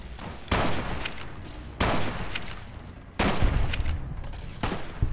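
Gunfire in Fallout New Vegas: four loud, evenly spaced shots ring out about a second and a half apart, each leaving a long noisy echo over a steady background hum.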